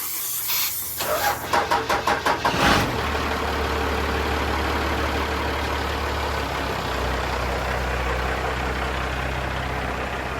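Air is blown over a stripped car body panel, drying it after paint stripping: a few quick clicks, then a loud, steady, close hiss of rushing air that runs on unbroken.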